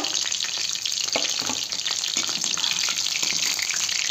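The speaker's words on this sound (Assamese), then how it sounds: "এইটো আপোনালোকে 15 মিনিটমান ভাজি ল'ব 15-10 মিনিট দি লাগে আৰু এনেকৈ ভাজি ল'ব" Chicken fries in oil with a loud, steady, crackling sizzle that never lets up, no voices.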